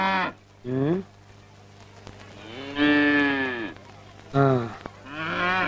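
Cattle moo repeatedly at close range in a rural setting where a cow is being sold, giving five long, loud, drawn-out calls separated by short pauses.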